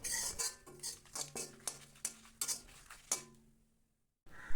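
Chillies, coconut, garlic and cumin dry-roasting in a pan, with a series of distinct metal clinks and scrapes from a spoon against the pan, close, fading to near silence before a final scrape.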